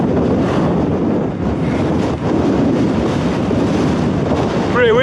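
Strong wind on a hillside in the Scottish Highlands buffets the microphone in a constant roaring rush, gusting loudly throughout, with a brief voice near the end.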